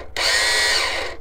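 A lawnmower's electric starter motor cranks in one loud, steady whirring burst of just over a second, near and alone.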